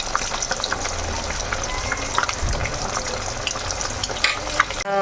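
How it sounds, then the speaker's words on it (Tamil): Fish deep frying in hot oil, turning crisp on both sides: a loud, dense, continuous bubbling sizzle heard up close, steady throughout with no talking. "நல்லா ஃப்ரை ஆயிடுச்சு ஃபிஷ்ஷு. ஸோ இந்த மாதிரி ரெண்டு சைடும் நல்லா டீப் ஃப்ரை பண்ணிக்கோங்க."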